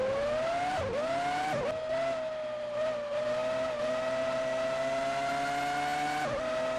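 Formula One car from a 2003 racing game accelerating hard out of the Parabolica at Monza, its high-pitched engine climbing steadily through quick gear changes, loud and close with no talk.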